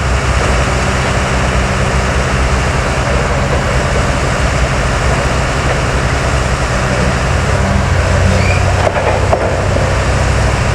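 A WZ500-TY rail crane slowly lowers a 5-metre rail section, its continuous engine rumble and machinery drone running loud and unbroken, with a faint metallic clink near the end.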